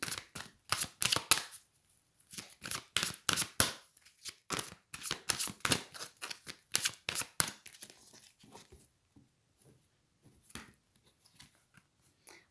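Tarot cards are shuffled in quick bursts of crisp riffling and slapping, close and fairly quiet, with short pauses and no speech.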